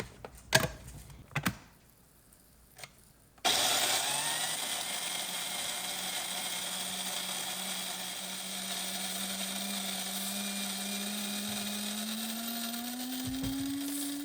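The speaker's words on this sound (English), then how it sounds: "So we're milling up 120 grams fresh milled einkorn" An electric grain mill grinds 120 grams of fresh einkorn into flour: a few light clicks, then the motor kicks in with a loud, steady, close grinding whine whose pitch slowly climbs.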